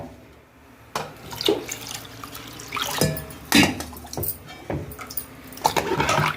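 Water splashes and pours in several short bursts into a pot of cooking dal, with drips and sloshing between pours, close and fairly loud.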